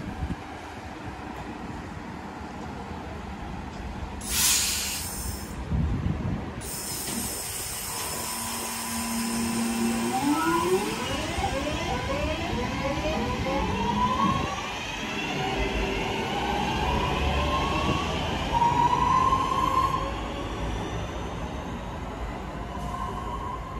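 A passenger train pulls away from a station in England on the line from Stoke-on-Trent toward Macclesfield, with a low rumble and rising wheel and motor tones building steadily and passing close by, alone without any talk.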